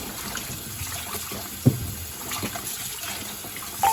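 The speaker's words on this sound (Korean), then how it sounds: "물에 좀 담가 놨다가 여러 번 깨끗하게 씻어줍니다" Spring cabbage leaves are swished and rinsed in a basin of water, giving soft splashing and trickling with one sharper splash, fairly quiet and without speech.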